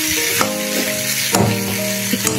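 Ground spices with turmeric and cumin fry in hot oil for a potato-eggplant tilapia curry, a loud, steady sizzle with occasional stirring scrapes and no voices.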